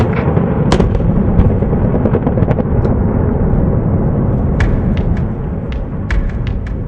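Mine blasting at the Rössing uranium open pit in Namibia: a sustained, loud, rumbling roar with scattered sharp cracks and thuds throughout, heard from a distance without voices.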